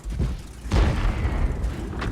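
A heavy tank gun in a video game fires at a heavily armored KV tank: one loud, deep boom followed by a rumbling tail, with no talk.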